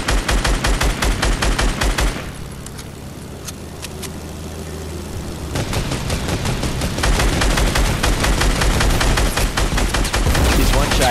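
Rapid bursts of gunfire crack loudly in a Fortnite match, heavy volleys at first, a short lull with engine-like rumble, then sustained rapid shooting resuming and continuing to the end.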